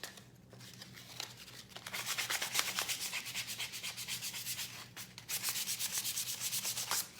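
Steady back-and-forth rasping of sandpaper on wood, starting quietly and then continuing in brisk, even strokes with a brief pause midway.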